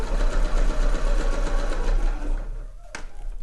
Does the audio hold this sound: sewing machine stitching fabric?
yes